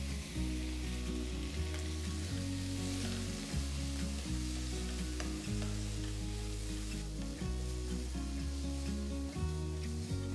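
Finely chopped tomatoes fry in a pan for a Madurai-style kari dosa, giving a steady, close sizzle that runs the whole time under a strong, repeating low-pitched background tone, with no talking.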